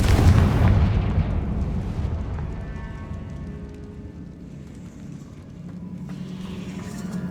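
A Confringo spell in the Hogwarts Legacy video game erupts in a loud, booming explosion that rolls off into a long, rumbling decay, with no talk over it.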